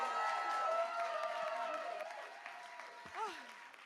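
At a live music show, an audience greets a performer with applause and cheering, steady clapping under excited voices and a loud whoop near the end.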